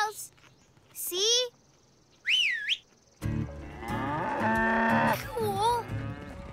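Cattle on a cattle drive mooing loudly and close, several drawn-out calls in turn, with someone whistling and people talking between and over the moos.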